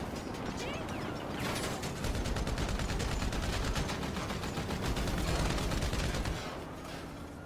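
Rapid automatic gunfire in Grand Theft Auto V Online shooting through a vehicle window, dense bursts of shots running for several seconds, then cutting off near the end.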